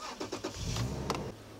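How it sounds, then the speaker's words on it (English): A car engine starting: a few quick starter-motor cranks, then the engine catches with a brief rev and settles into a steady, fairly close idle. "First, we start the engine."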